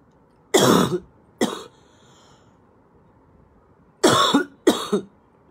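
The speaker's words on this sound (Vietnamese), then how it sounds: "Ho mà rát họng luôn với bà." Four harsh coughs from someone sick with COVID and a sore throat, in two pairs: two near the start and two more after a quiet pause, loud and close against a faint background hiss.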